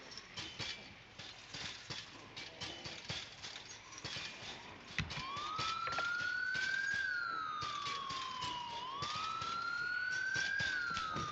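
An ambulance siren wails at Irvington Speedway, rising and falling in long sweeps that begin partway through, after a stretch of scattered clicks and crackles, with no talking.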